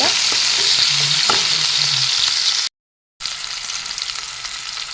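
Onions and chillies sizzle loudly in hot oil in a pan, with scraping stir strokes. A brief silent gap interrupts it before the steady frying resumes.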